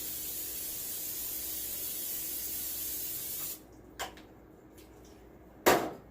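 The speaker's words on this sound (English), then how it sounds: "I'm just going to use some olive oil spray." A continuous hiss of olive oil cooking spray for several seconds, then silence broken by two short sharp spritzes onto a metal cookie sheet.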